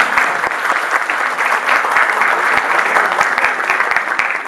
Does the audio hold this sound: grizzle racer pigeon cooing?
no